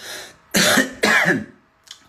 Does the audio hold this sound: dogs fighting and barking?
no